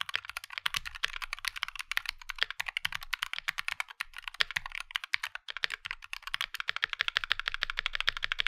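Rapid, steady clacking of keys on a tape-modded Wooting 60HE mechanical keyboard, close and fairly loud, with a dense continuous rhythm and no talking.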